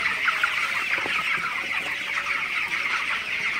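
A flock of broiler chickens in a shed murmurs with constant overlapping clucks and chirps, a dense steady chorus close by, with no talking.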